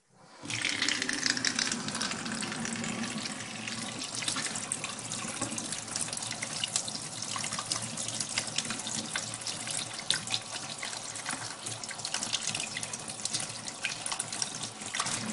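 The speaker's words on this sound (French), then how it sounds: "Donc on va la passer sous l'eau claire et vous allez voir." Tap water runs steadily into a sink as mussels are rinsed under it, a close, continuous splashing rush with no voices, lasting the whole stretch.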